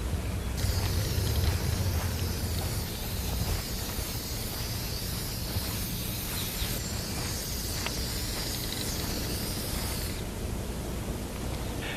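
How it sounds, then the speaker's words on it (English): A continuous hissing spray from an aerosol paint can marking a circle on grass, steady and close, with a brief pause near the end before resuming. "I'll spray a circle on the grass to mark the pool outline"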